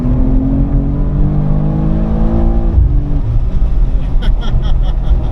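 A 2023 BMW M2 G87 drives on a race track, its engine a loud close drone with rising and falling harmonic tones as it accelerates and then eases off, with a brief ticking near the end.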